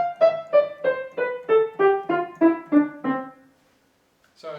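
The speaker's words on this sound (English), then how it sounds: "Staccato is detached, it sounds separate." Nine short staccato piano notes step downward in an even rhythm, each one clearly detached from the next, played alone and close, then a pause before a brief sound at the end.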